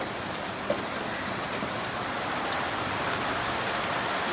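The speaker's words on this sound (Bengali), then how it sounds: "প্রচণ্ড আকারে বৃষ্টি হচ্ছে," Heavy rain pours steadily over Dhaka after intense heat, a dense, even wash of hiss with no talk.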